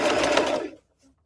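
A sewing machine stitches a rag quilt up close in one short, loud whirring burst that stops abruptly, followed by near silence.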